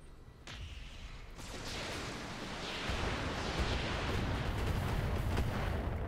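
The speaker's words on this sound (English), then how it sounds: "Wow, a lot of missiles hit there." Missiles striking a mech in the battle game Roguetech, a heavy rolling barrage of explosions that builds into a sustained, dense roar of impacts, with no talk.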